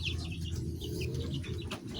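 Chicken clucking in a backyard rabbitry, short close clucks and chirps repeating over a low steady background hum.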